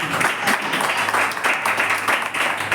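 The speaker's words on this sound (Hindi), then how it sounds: "जोरदार ताली बजाओ परमेश्वर की महिमा" A church congregation at a Hindi-language worship service claps loudly and continuously. The close, full clapping has a slight pulsing rhythm.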